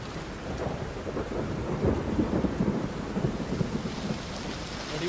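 Heavy monsoon rain pours down in Karjat taluka, Maharashtra, a dense steady hiss with low rolling thunder rumbling beneath it throughout, no voices present.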